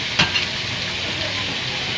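Carbonara ingredients sautéing in a hot pan, a steady close sizzle and crackle with a brief utensil scrape near the start, no talk over it.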